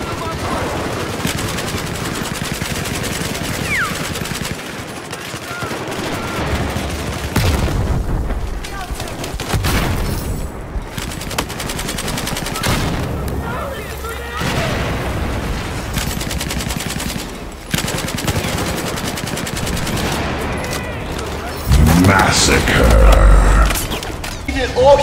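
Light machine gun fire and C4 explosions in Battlefield 4 come as dense, continuous bursts of rapid gunshots with heavy booms mixed in, loud and close throughout, over occasional game voices.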